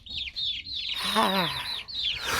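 Chickens cluck and squawk close by in a busy, chattering flurry, with one lower drawn-out cluck in the middle.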